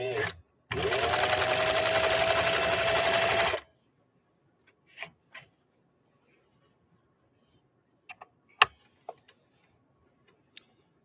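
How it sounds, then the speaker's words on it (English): A 1960 CL21A sewing machine running a straight stitch: about three seconds of steady, fast, close mechanical whirring and clicking, then quiet with a few scattered clicks and taps. "let's lay down a basic straight stitch. And again, give this machine a listen."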